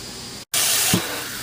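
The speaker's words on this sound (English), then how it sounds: "just going to go ahead and just blast it with scalding hot water" Scalding hot water blasts from a spray nozzle onto the metal tuner of an old Philco model 37-2670 radio. A loud, steady broadband hiss starts after a brief pause, with a short splashing thump partway through.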